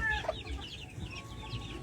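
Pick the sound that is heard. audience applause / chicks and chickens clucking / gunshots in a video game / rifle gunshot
chicks and chickens clucking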